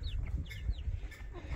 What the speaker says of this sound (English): And we got the new chicks.